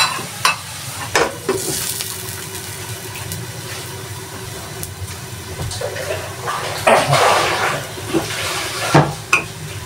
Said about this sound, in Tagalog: Habang ginigisa ko yon